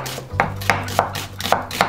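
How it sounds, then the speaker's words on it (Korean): Onion being thinly julienned on a slicer in a home kitchen, a series of crisp cutting strokes at an uneven rhythm, close and fairly loud, with no talking. "양파도 얇게 채 썰어주세요."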